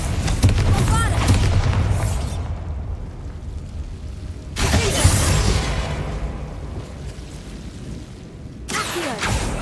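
Bombarda spell explosions in Hogwarts Legacy, several loud booming blasts spaced a few seconds apart, each a broad crashing burst that decays into rumble, close and dominant.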